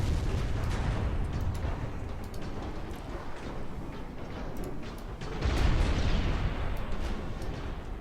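Heavy 12-inch naval guns of battleships fire in a naval combat game, producing a dense, continuous rumble of overlapping booms and blasts with a louder swell of detonations near the end.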